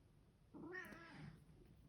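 A pet cat lets out a single drawn-out vocal growl with a whiny, meow-like edge, faint and close, lasting about a second in an otherwise quiet room.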